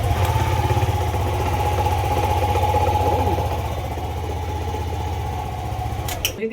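Yamaha Aerox or Nmax 155 scooter engine running steadily after a push start, a close, even idle throbbing throughout, then a brief clatter at the very end.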